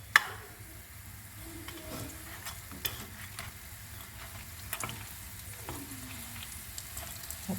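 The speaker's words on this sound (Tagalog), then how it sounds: "nag-start na nga ako mag-prito dahil nandito na sila" Lumpiang Shanghai spring rolls frying in oil, a steady low sizzle with occasional clicks and stirring scrapes, fairly quiet and close, no speech.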